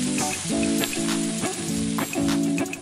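Potatoes and bitter gourd fry in a pan, turned with salt and turmeric, giving a steady close sizzle with repeated stirring scrapes at a regular rhythm.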